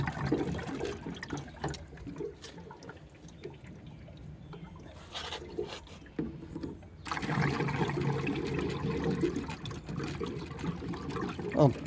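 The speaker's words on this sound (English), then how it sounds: "So you hear it draining down." Water draining out of an NPE Series tankless water heater during an internal check valve replacement: a moderate, continuous trickle and gurgle of liquid that grows fuller in the second half, with faint background noise.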